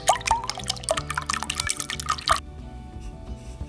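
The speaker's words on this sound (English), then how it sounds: "We beat the eggs before we add 1 1/4 cup of half and half." Half and half poured into a bowl of four beaten eggs, giving a steady liquid pour with drippy splashes over a low background hum, then stopping abruptly near the end.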